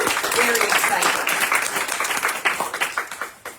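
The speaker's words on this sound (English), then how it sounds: "I would like a round of applause for all of us for that" Audience applause at a town hall gathering, a dense wash of many hands clapping that stays loud, then thins into scattered separate claps near the end.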